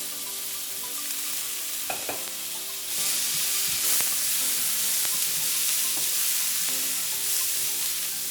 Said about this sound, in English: We're going to add 1 cup of sliced up carrots.